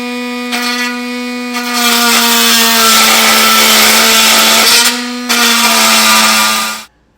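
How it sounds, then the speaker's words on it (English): An oscillating tool with a metal cutting blade cuts through metal while a Curt custom base plate kit is installed on a 2017 Chevrolet Equinox. The loud, steady, close buzzing whine dips briefly midway, then cuts off sharply near the end. "I'm gonna be using an oscillating tool with a metal cutting edge on it"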